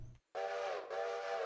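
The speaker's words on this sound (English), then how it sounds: "A little trigger happy on the old whistle." Steam locomotive whistle in the Railroader train simulator, two loud sustained blasts with a brief break between them, close and clear after a short quiet gap.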